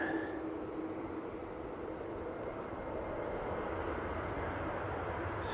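A Lufthansa Airbus A321 in Star Alliance livery arriving from Munich at Manchester Airport gives a steady, broad jet roar that holds at even strength, heard from a distance.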